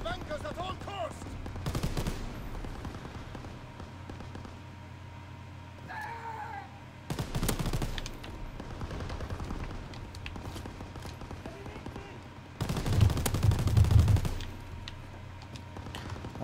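Gunfire in the World War II shooter game Call of Duty: WWII during a D-Day bunker defence match, with bursts of shots over a steady background, the loudest volleys standing out near the end.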